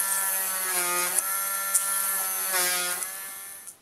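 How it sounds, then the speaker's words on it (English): A small power drill whines steadily, pausing and restarting a few times as holes are drilled in perf board, close and moderately loud. "use the perf board as a guide to drill the holes"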